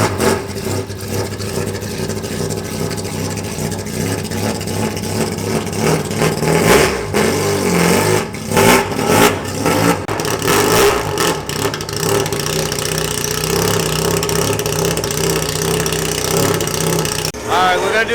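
Mazda RX-7 track car with individual throttle bodies on a dyno, its naturally aspirated engine revving hard toward 9000 RPM with loud rising and falling roars, close up, with a voice talking over it.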